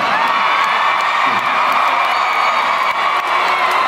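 A loud crowd at a rap battle screams and cheers in a dense, continuous roar with high-pitched shrieks and whoops, close and unbroken for the whole stretch.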